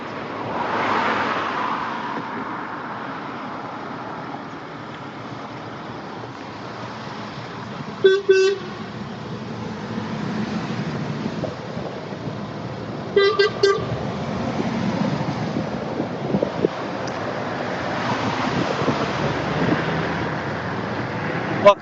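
Passing lorries toot their horns in two short bursts of repeated blasts, a few seconds apart, over a steady rumble of roadside traffic.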